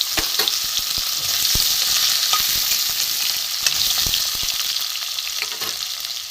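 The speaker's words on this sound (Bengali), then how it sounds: "আলুটা ভাজা হোক।" Potato pieces fry in mustard oil with dried chilli, bay leaf and whole cumin, giving a loud, steady, hissing sizzle with scattered pops and stirring clicks throughout, with no voices.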